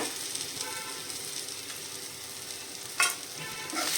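Cooked eggplant bharit with coriander being mixed in a pan, a soft steady sizzle with occasional utensil scrapes and one sharper clink, fairly quiet and close.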